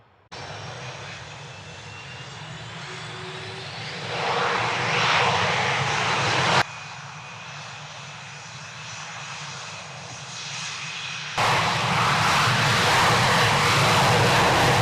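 Jet fighter aircraft flying during a NATO air exercise, a loud continuous engine roar swelling as jets pass, across several spliced segments with no talking.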